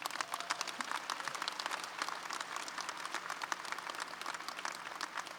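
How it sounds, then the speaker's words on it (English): At a university commencement ceremony, a large outdoor crowd applauds an honoree, many individual claps audible within a steady, moderately distant patter that continues evenly for several seconds. "Give him another round of applause."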